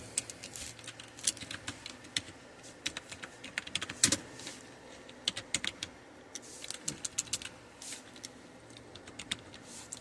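Close typing on a computer keyboard while entering data in an Excel spreadsheet, an irregular patter of soft key clicks in quick bursts with brief pauses, steady and fairly quiet, with no voice.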